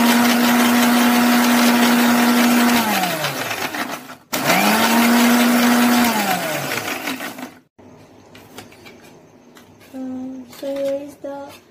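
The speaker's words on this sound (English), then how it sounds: "We took the almonds, milk, and cornflour, and then we will grind it. So here we will grind now." A kitchen blender grinds almonds with milk and cornflour in two loud, steady whirring bursts, each winding down, followed by quieter clattering and handling of the jar.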